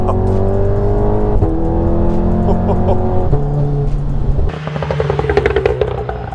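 A Stage 2 tuned Volkswagen Golf R accelerates hard, its engine note climbing through loud, sustained revs before a sharp upshift and a rougher, roaring pull from inside the car.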